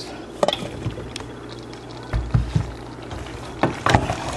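Carrots and sprouts tumble into a hot pot of pre-cooked vegetables, giving a few sharp clinks and clatters against the pot, with soft bubbling between the knocks.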